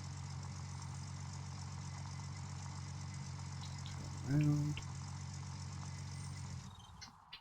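A truck engine idles in the Gold Mining Simulator video game, a steady low rumble held at a constant level through the clip, with a brief spoken phrase partway in before the engine cuts off near the end.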